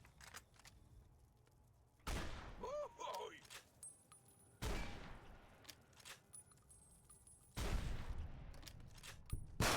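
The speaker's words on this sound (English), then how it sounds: "I guess we're using the anti-material rifle." Anti-materiel rifle in Fallout New Vegas firing three heavy, widely spaced shots, each a loud sharp blast with a decaying tail, over quiet game ambience with brief bursts of in-game voices between.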